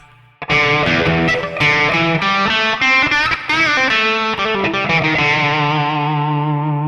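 Electric guitar played through an Electro-Harmonix Satisfaction Plus high-gain pedal with reverb, loud chords and notes ringing out, ending on a long sustained chord that fades slowly.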